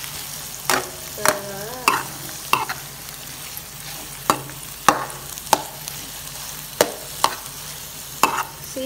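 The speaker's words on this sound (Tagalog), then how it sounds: "Iyakin natin ang ating egg. Halu-haluin guys." Egg being stirred into sisig in a hot frying pan, with a utensil scraping and tapping the pan in repeated sharp strokes over steady sizzling. A voice briefly murmurs once.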